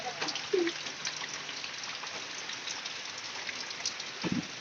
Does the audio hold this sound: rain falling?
yes